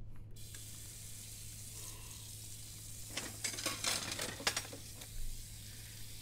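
Dishwashing in a horror video game: tap water runs in a soft, continuous stream while dishes clatter and clink in a quick flurry midway, faint and with no talk.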